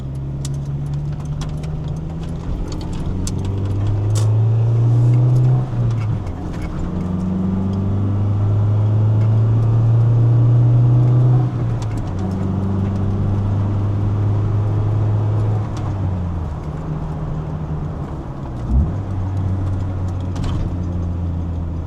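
Engine of a manual Acura Integra DC4 rising and falling through rev-matched downshifts while driving in traffic, its hum swelling and dropping in pitch several times, loud and close with no talking.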